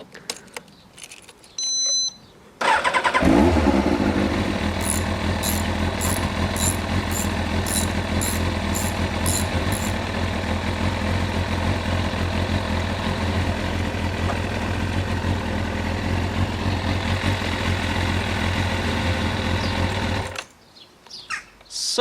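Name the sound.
motorcycle engine running during engine flush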